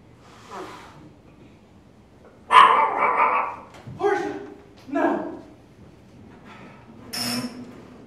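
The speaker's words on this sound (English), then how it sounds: "Oh, I love that dog." A dog in a stage play, barking and yipping in a few short, loud bursts spaced over several seconds, with some whimpering and theatrical voices mixed in around it.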